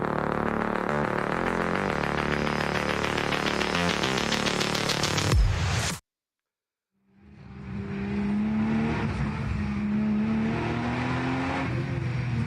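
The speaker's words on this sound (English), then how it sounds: "Cars still going round on their green flag lap." NLS race cars on a green flag lap at a race, engines droning loudly and steadily, then a hard cut to a moment of silence before the engine noise returns at the same level.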